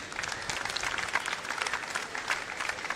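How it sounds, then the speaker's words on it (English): Audience applause at the Mumbai Open WTA125 women's tennis tournament greeting 21-year-old player Dalia, a steady, moderately distant wash of many hands clapping throughout. "A big round of applause for Dalia,"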